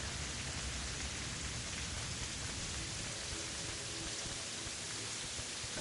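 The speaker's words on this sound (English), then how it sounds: "why is it still raining?" Steady rainfall from the video game Terraria, a dense, even hiss of drops falling continuously at moderate level with no voices over it.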